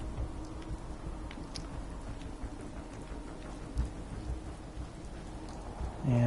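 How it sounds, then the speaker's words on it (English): Steady rain in the Fallout 4 game world, a dense continuous hiss with low rumbling thunder underneath and a louder swell near the end, no talking. "apparently it's going to rain on us while we build"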